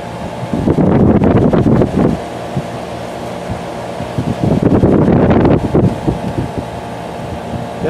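Garage air conditioner running with its compressor on, a loud steady fan-like whoosh and hum up close, with gusty surges of airflow rising twice over the constant drone.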